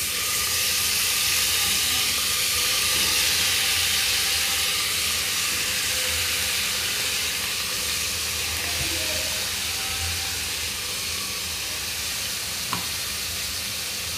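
Chopped vegetables for a home-style Indian veg pulao sizzle steadily in hot oil, a continuous close, fairly loud frying hiss with faint stirring clicks and one brief knock near the end; no talking.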